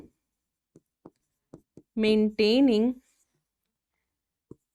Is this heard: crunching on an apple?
no